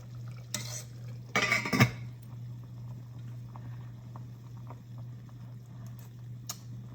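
A spoon stirring bolognese sauce in a pot, with a short burst of scraping and clinking early on, then a quiet simmer under a steady hum and a few light taps.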